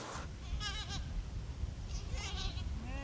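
Goats on a farm bleat several times in quavering calls, some nearer and some farther off, over a steady outdoor background.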